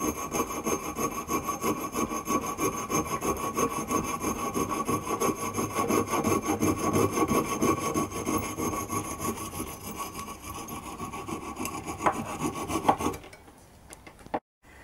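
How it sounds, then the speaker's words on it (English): Steady back-and-forth hand sawing through a hard pipe, a continuous rasping rhythm for most of the clip, stopping near the end with a couple of taps. "I'm just sawing a bit off first of the right length."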